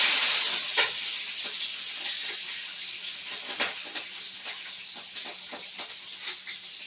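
Green chillies deep-frying in hot oil for a home-cooked fish sambar give off a steady, close hiss and sizzle, with scattered sharp crackles and pops throughout, and no talking.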